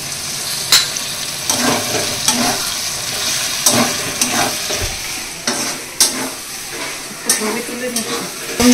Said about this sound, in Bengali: তো মশলাটা কষে গেছে, তেলটা ছেড়ে দিয়েছে। এইবার কোপ্তাগুলো যে ভেজে রেখেছি এগুলো দিয়ে দেবো।